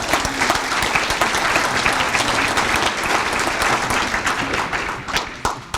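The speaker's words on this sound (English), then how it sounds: "Let's give them both a round of applause." A banquet-room crowd at a chamber of commerce awards celebration claps for nominees, a loud, dense and sustained round of applause that carries on without speech.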